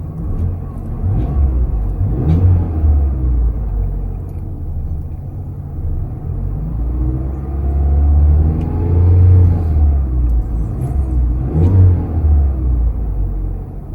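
A 2024 Mazda CX-5 SUV engine running steadily, a deep continuous rumble with gentle swells in revs, close and fairly loud with no talking.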